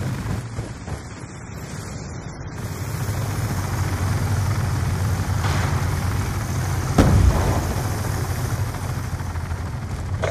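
Warthog aircraft in the Black Ops 2 video game, a loud sustained rumbling roar that swells and holds steady, with a brief sharper burst near the end as it passes overhead.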